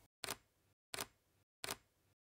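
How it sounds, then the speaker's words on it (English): A camera shutter fires three bracketed exposures while the button is held down: three sharp, close mechanical clacks spaced evenly about seven-tenths of a second apart, each followed by a brief whir, then silence. "press and hold down the shutter button until all your photos are taken"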